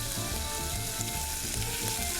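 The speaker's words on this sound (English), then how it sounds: "when the saute pan is a little hot, we add a little pancetta" Pancetta fries in a hot sauté pan, a steady, dense close-up sizzle that holds evenly throughout without voices.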